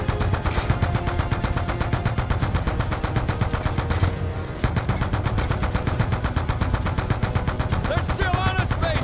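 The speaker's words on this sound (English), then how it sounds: "They're mounted MGs on each side of the barge!" Heavy mounted machine guns fire nonstop from a barge in Call of Duty: Black Ops 2, a dense rattling stream with one short gap halfway through, loud and close, under occasional shouting.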